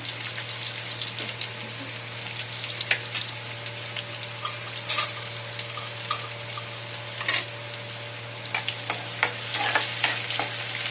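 Onions sizzle steadily in a hot pan for bhaji, a continuous close frying hiss with occasional scrapes of stirring and no voices.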